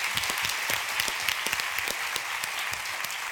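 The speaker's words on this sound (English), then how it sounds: "How about a round of applause for them" An audience at a Denver Startup Week gathering claps, a crisp, dense patter with scattered sharper individual claps, steady and fairly close for the whole stretch.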